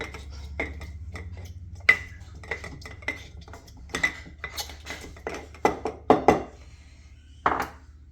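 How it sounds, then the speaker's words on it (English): A glass quart jar of fermenting beans being moved around a kitchen counter, giving a series of light clinks, taps and knocks of glass on hard surfaces, spaced irregularly and fairly close. "Let's move this jar over here."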